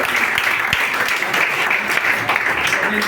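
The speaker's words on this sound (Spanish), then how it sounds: "Un aplauso, hermano, para la respuesta." Church congregation applauding a correct answer during a sermon, dense loud clapping from many hands throughout, sharp individual claps standing out near the front.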